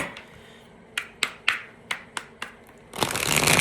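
A short run of crisp tarot card snaps, six or so separate flicks, followed by a louder continuous riffle of tarot cards being shuffled close by.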